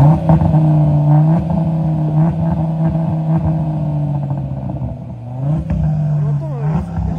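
A BMW M3 engine idles loudly up close with a steady drone, then revs briefly with rising pitch near the end, with faint voices in the background.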